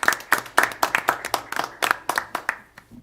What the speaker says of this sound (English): So join me in giving her a big round of applause, as well as our other administrative assistants.